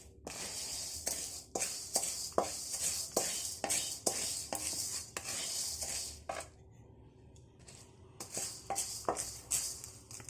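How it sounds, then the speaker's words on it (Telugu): Chana dal and urad dal dry-roasting in a pan, stirred with a utensil that gives repeated scraping clicks and rattles against the metal, with a brief quieter pause partway through. "శనగపప్పు, మినపప్పు రెండు కూడా బాగా వేపాలి"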